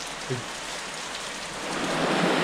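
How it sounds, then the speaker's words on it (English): Steady rain hissing across the whole stretch in Apuseni Natural Park, growing a little heavier toward the end, with a brief low thump early on. "It's raining."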